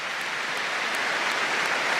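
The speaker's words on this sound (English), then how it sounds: "the players quite rightly clapping him off the pitch" Rugby players at the 2023 Rugby World Cup match between New Zealand and Namibia applaud an injured player off the pitch, a steady wash of stadium clapping filling the air without a pause.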